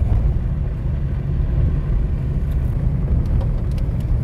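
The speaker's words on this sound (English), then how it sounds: "Look at it, it's like heavy traffic." Heavy traffic rolls along a busy main road, a continuous low rumble of passing vehicles, loud and steady without pauses.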